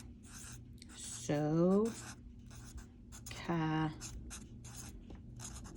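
Quick scratchy strokes of a marker or pen write out a trigonometry problem during a maths lesson, mostly under a teacher's talking voice.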